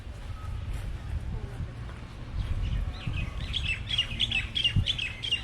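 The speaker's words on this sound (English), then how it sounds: "There's a bird in there nesting." Small bird chirping near its nest at the Honolulu Zoo: a quick burst of high, thin chirps in the last two seconds over a rumbling outdoor background.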